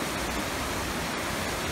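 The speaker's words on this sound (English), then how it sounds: "The Spring Creek is flowing into the Yuba." Water of the Yuba River rushing steadily where Spring Creek flows in, a dense, even broadband wash that stays at constant loudness with no voices present.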